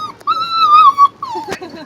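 A month-old puppy lets out high, drawn-out whimpers close by, with a long whine followed by a shorter falling one and a brief yip between them.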